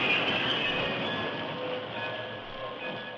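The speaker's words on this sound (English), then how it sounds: "As the train of cars rolled over the tracks" Railroad cars rolling over the tracks, a steady close rumble with faint metallic squeal and wheel clatter running throughout.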